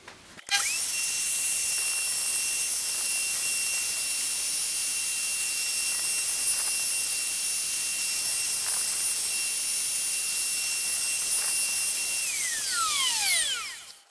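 WoodRat router cutting finger joint slots in wood: a high-pitched whine spins up and holds steady for about twelve seconds, with faint cutting changes, then winds down sharply.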